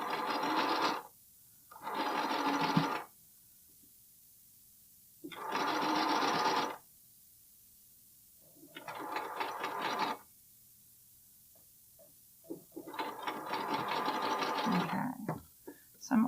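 A home sewing machine stitches the seam of a bralette in five separate bursts, each a steady whirring run of a second or so, separated by quiet pauses, close and clear.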